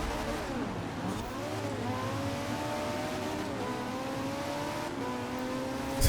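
A Ferrari fitted with a 6-litre V12 launches and accelerates hard, its engine note climbing steeply through several gear changes, loud, steady and close, with no talking.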